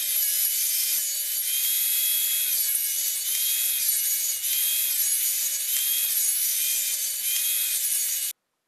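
Wood scraps are sawn into strips for a DIY coffee table: a steady, close, rasping cut with a faint hum, running continuously until it stops abruptly near the end.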